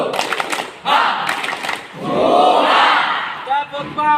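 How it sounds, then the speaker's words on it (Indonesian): A scout group performs a rhythmic clapping chant, bursts of sharp unison claps alternating with loud shouted group voices, close and energetic. "Tepuk semangat."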